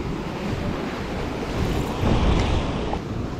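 Sea waves wash and surge steadily off the Sinop coast during a night bluefish fishing trip, a loud, close, continuous swash with wind buffeting the microphone and no one speaking.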